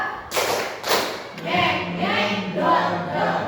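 Two sharp hand claps, a brief pause between them, from a group clapping game in a classroom, followed by a burst of loud mixed voices.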